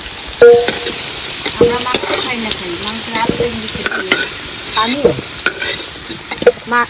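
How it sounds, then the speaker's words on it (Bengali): Potato pieces frying in oil in a karahi, close and loud, with steady sizzling and repeated scraping stirs throughout. "তেল দিয়ে দিচ্ছি আলুগুলো ভেজে নেবো"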